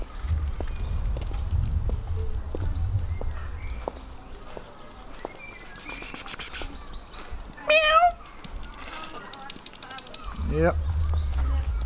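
A cat gives a couple of short, wavering meows partway through, set against a busy outdoor background with some rustling and a voice nearby.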